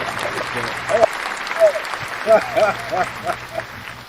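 Scattered applause from a modest crowd, uneven claps rising and falling over a few seconds, with some voices mixed in.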